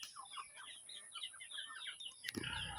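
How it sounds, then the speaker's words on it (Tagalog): Chickens being fed on a rural hillside farm cluck and chirp in a busy, continuous flock chorus, with a sharp clatter near the end. "Ara akong tatay nagapamubod sang manok,"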